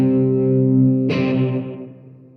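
A distorted electric guitar chord from a song rings out sustained, then is struck again and quickly cut short into a clipped staccato that fades, loud and close, with no talking.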